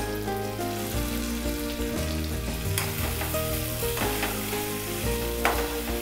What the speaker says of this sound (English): now the garlic ginger has turned to a nice color and now I'm going to add in the onions.